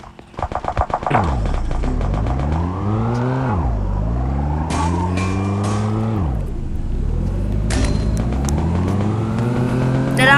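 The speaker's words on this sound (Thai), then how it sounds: "ขับรถจี้ตูดรถจี๊คันนั้นเอง รถเราแรงกว่าโว้ย" Car driving in the video game Free Fire, the engine revving up in repeated rising sweeps that drop back between gear shifts, loud and close, with some sharp bursts in the background.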